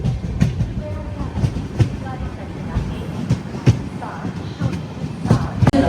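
Passenger train at Dhone Junction platform 1, the AP Sampark Kranti Express, with a steady rolling rumble and repeated rhythmic clacks and thumps of the carriages, close by, and voices faintly in the background.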